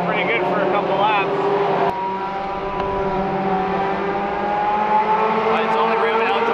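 A race car engine at Merrittville Speedway, a dirt oval, drones steadily at high revs with a sustained, slightly wavering tone, loud and close throughout while someone speaks over it.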